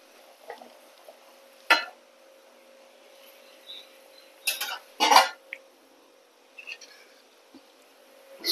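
Pabda fish cooking with eggplant, salt and turmeric in a pan, heard as a few sharp clinks and scrapes of a utensil against the pan over a faint background, coming in scattered bursts.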